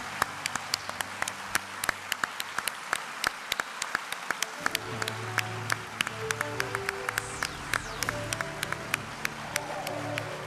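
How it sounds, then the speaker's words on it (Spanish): Applause from the audience at an education awards ceremony, a dense wash of clapping with sharp individual claps standing out, moderately loud and continuous throughout. "voy a pedir un fuerte aplauso para recibir a Alejandro Hernández Arboleda y a Luis Alberto Gutiérrez"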